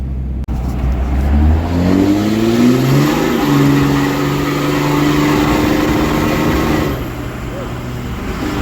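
A Cummins diesel truck with an 8-inch axle dump exhaust revs up and holds a deep, rumbling roar with rising and falling pitch, close by, then settles back toward idle.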